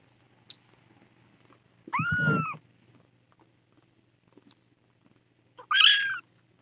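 A tiny kitten gives two separate, fairly loud meows a few seconds apart during bottle feeding and playtime, with near silence between them.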